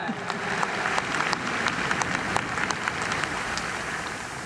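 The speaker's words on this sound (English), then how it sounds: "give me a round of applause if you've ever done that or thought about doing that" Audience applause fills a commencement ceremony hall, a steady wash of many hands clapping at moderate distance with scattered sharper claps standing out throughout.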